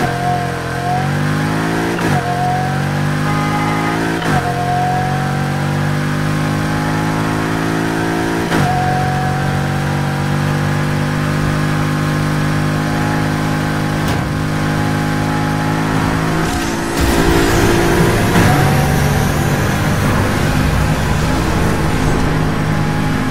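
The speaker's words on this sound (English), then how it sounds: "In Need for Speed Heat, the Chevy Camaro sounds like this." A Chevy Camaro engine in the racing game Need for Speed Heat revs loudly and repeatedly, each rise in pitch cut by sharp gear shifts, building to a harsher, rougher roar near the end, with no talking.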